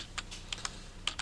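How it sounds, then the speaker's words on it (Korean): Arrow keys on a computer keyboard are pressed left and right, giving about seven short, soft, separate clicks in an irregular rhythm, close and quiet, with no talking. "좌우 방향키를 눌러보세요."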